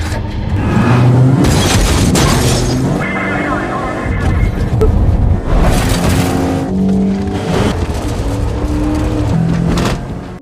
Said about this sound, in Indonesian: Mason berhasil membalikan mobil si pembunuh bayaran tersebut